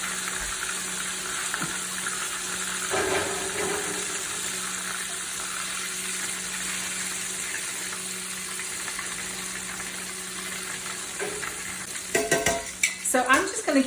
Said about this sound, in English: I'm just going to keep dredging and frying in small batches until we're done.